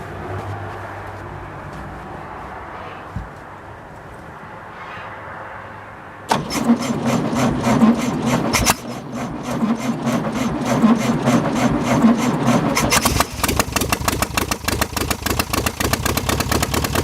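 A 1966 Volkswagen Beetle engine cranks over with a rapid rhythmic starter whir, then catches and runs with a loud, choppy, sputtering idle close by that grows rougher and more intense.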